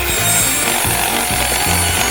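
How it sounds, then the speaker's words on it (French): Steady back-and-forth sawing through a tough, fibrous cactus with a saw, with regular rasping strokes, close and loud throughout. "C'est facile et rapide de le faire avec une scie."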